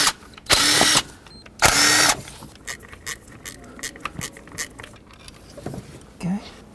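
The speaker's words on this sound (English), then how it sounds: "10mm socket, remove these nuts." Bursts of a power driver with a 10mm socket running bracket nuts off the ignition-coil bracket of a Chevrolet Express engine, two loud short whirs followed by quieter clicks and handling noises, with soft speech.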